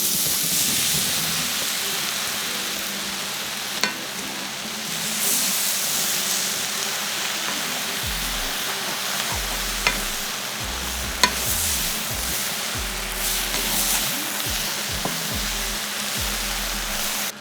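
Eggplant frying in a pan with caramelizing onions, giving a loud steady sizzle and hiss throughout, broken by occasional sharp clicks and scraping stirs.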